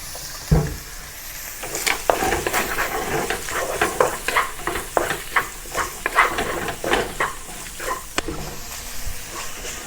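Marinated minced chicken stir fries in an oiled pan. A steady sizzle runs throughout, broken by frequent rhythmic scraping and stirring strokes at close range, with no voices.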